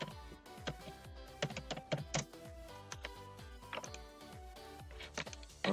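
An email address is typed on a computer keyboard in quick, irregular bursts of close, crisp key clicks, with brief pauses between runs and no voices.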